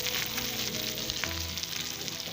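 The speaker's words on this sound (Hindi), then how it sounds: "तो इसका हम तड़का बना लेंगे" Hot oil sizzles and crackles continuously as tempering spices fry for a masoor dal tarka, a dense, close frying sound with no voices.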